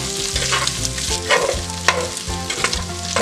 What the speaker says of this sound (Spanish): ahora aquí mismo le vamos a poner las salchichas. Y dejamos que se doren también.